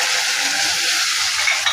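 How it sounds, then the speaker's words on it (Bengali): Spices, including garam masala, fry in a pan over high heat for a goose meat curry: a loud, steady close sizzle with faint stirring, and no voices. "আমি 3-4 মিনিট হাই হিটে মশলাটাকে ভালো করে ভেজে নিয়েছি।"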